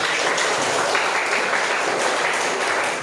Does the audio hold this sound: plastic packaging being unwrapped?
no